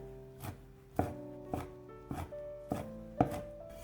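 A knife dices sausage into small cubes on a cutting board, striking six times in a slow, even rhythm with crisp, close thuds and no voices.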